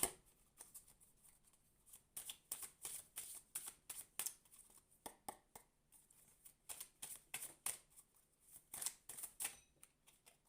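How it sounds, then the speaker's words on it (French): A deck of tarot cards is shuffled by hand in a quiet room, giving repeated crisp riffling bursts in short, steady rhythmic clusters, close and fairly soft, with no talking. "je brasse comme d'habitude"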